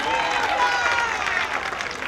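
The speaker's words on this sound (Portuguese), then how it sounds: "salva de palmas, dona Rosilda" Crowd applause at a public servants' party in Bacabal, a dense, steady clatter of many hands that holds at an even level throughout, with some voices mixed into the noise.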